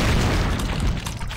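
Rocket launcher explosion in Doom 2, a loud, dense boom with a rumbling low end that fills the short moment and then fades slightly.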